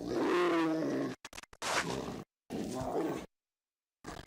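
Tiger roaring at close range, a loud throaty growling roar followed by choppy bursts of grunting with gaps of silence between them.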